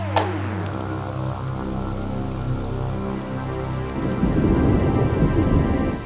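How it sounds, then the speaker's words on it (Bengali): Rain begins with rolling thunder, a low rumble under a sustained downpour that swells noticeably louder toward the end, with tonal background sounds and no speech. "মুখের কথা শেষ হতে না হতেই বৃষ্টি শুরু হয়ে গেল।"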